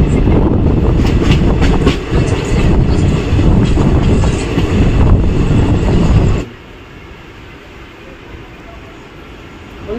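Kanchanjungha Express train running after leaving NJP station, a loud close rumble and rattle of the carriage heard from inside, which drops abruptly to a quieter steady hum partway through.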